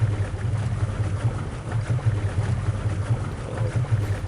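Ship movement effect in the Strategic Command Civil War strategy game, a steady watery rumble like a vessel under way with a low pulsing hum, continuous and fairly loud with no talking.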